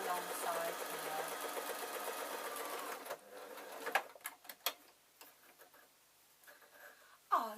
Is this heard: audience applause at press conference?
no